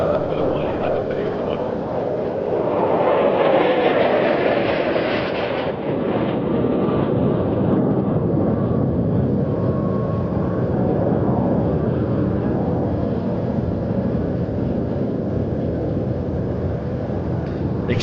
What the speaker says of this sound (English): Valery will approach once more for a low-altitude aileron roll, showcasing the very colorful paint scheme of this most impressive team from Latvia